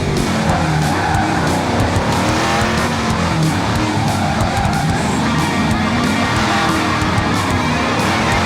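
Drift car at an airport event sliding with continuous tire squeal and roaring engine, heard from inside the car, loud and unbroken throughout.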